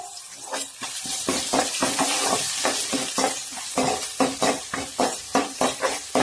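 Dried red chillies and ginger being sautéed and stirred in a pan, with a steady sizzle and a brisk run of repeated scraping stir strokes throughout, close and fairly loud, no talking.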